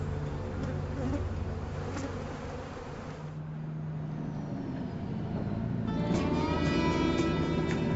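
Buzzing honeybees, a steady, dense drone at moderate loudness, with a passing vehicle rumble in the background and no voices.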